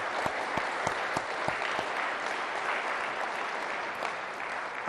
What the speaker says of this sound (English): Let's give the people who made this all happen from this institution a big round of applause as well.